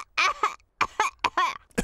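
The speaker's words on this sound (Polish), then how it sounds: "wszyscy dorośli zarazili się kaszlem Pedra" Several short, voiced coughs from cartoon pig-family adults, coming in quick separate bursts with brief pauses between them, close and clear with no other sound.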